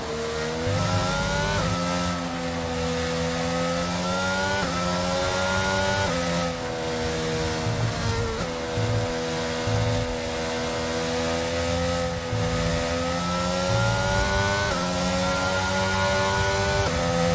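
Formula 1 cars in the F1 22 game race at the Saudi Arabia GP, the engine screaming loudly and close, pitch climbing through each gear with sharp drops at repeated upshifts every couple of seconds, no talk.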